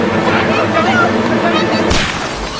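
A gunshot in a scene from the Hindi film Eetha: one sharp, loud blast cracks out near the end, following a stretch of dense background sound.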